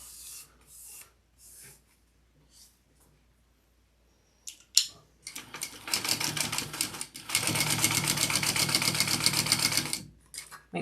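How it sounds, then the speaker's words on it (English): A sewing machine stitches a tote bag with a zipper, first in a few short bursts and stops, then in a loud, close, rapid run of needle chatter lasting several seconds before halting. "I'm going to sew that on"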